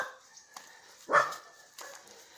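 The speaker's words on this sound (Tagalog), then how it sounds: "Mga aso ko, tinatahulan na ako." A single sharp dog bark sounds at a moderate distance, with a few faint yips around it in an otherwise quiet space.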